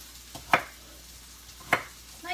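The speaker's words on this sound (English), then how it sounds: "So I just cut these up." Beets being cut on a board in a home kitchen, two sharp, isolated knife chops about a second apart, with a third starting at the end over a quiet background.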